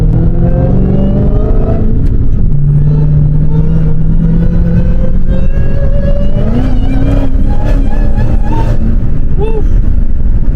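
A BMW M3 G80 drives off, its engine loud and close, with tones that hold, then climb and waver as it accelerates through the revs.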